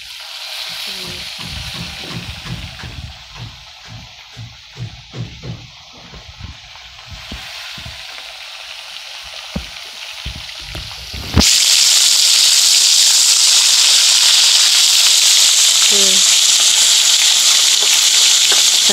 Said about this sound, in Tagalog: So, init na yung mantika, no? Tignan na. Magluto na si Isyang. So, magsimula na po tayong magluto lang.